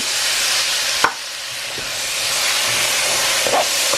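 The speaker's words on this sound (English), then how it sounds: "can of tomato sauce here, add that." Tomato sauce poured from a can into a hot pot of rice, setting off a loud, steady hiss and steam with a few brief clinks along the way.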